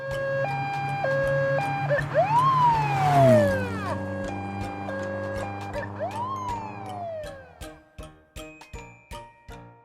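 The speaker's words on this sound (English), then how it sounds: "Police car." A toy police car siren plays alone, a loud electronic wail sweeping up and down with stepped tones, followed by rapid repeated beeping pulses near the end.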